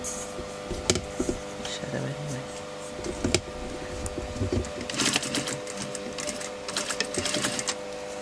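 A sewing machine stitches trouser fabric close to an edge, running in a steady mechanical whir with short bursts and pauses, heard up close while a person talks over it.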